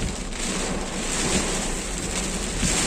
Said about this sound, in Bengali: প্রচুর বৃষ্টি, প্রচুর